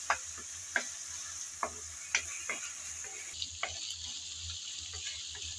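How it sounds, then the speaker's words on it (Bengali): Ginger garlic paste being stir-fried in a pan for a radish and rohu fish curry, with a steady faint sizzle and a series of light spatula scrapes and taps at irregular intervals. "এখন আবারও নেড়ে চেড়ে ভালোভাবে ভেজে নেব, যাতে আদা রসুনের কাঁচা গন্ধটা চলে যায়।"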